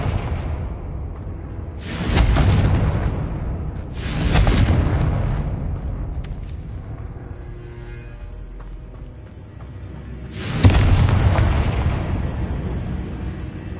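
Three heavy booming blasts from the Confringo fire spell in the video game Hogwarts Legacy, each a loud burst that rolls off slowly, spaced a few seconds apart over a low game ambience.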